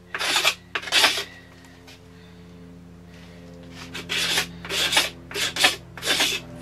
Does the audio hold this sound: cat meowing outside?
no